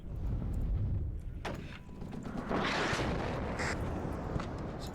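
Tank cannon fire from a pair of M41 tanks in the Cold War strategy game Warno: a few heavy booming shots spaced about a second apart, rolling over a constant low battlefield rumble.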